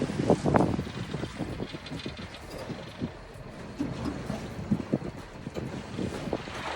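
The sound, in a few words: boat engine idling in fog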